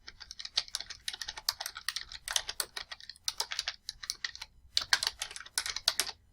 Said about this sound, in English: So type Stockholders and then a semicolon and then Annual Meeting.